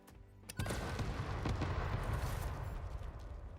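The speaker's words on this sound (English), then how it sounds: "there's been so many explosions going off in here." Explosions in the factory-building video game Satisfactory: after a brief quiet start, a sudden loud boom opens into a continuous rumbling roar with further sharp blasts layered within it, close and dense, with no voices.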